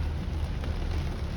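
Steady rain falling in Indonesia, a constant broadband patter and wash with a low rumbling undertone, even and fairly close, with no voices.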